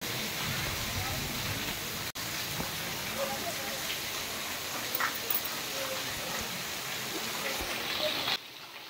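Steady rain falls in a dense, even hiss, continuous throughout, with a brief dropout and faint background sounds.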